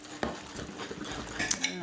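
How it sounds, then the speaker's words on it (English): Wet mix being stirred into dry mix for vegan waffle batter, heard as close, steady scraping and sloshing strokes with a couple of sharper clinks, no talking. "So now all I need to do is add my wet mix to my dry mix. So just stir it in."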